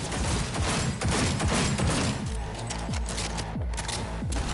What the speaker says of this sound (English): Minigun spotted.